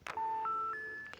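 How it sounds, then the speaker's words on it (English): A dial-tone style car horn in Forza Horizon 5 plays a quick run of three rising electronic beep tones over a steady low tone, clean and synthetic like telephone dialing, starting and ending with soft clicks. "the dial tone car horn, which sounds a bit like this"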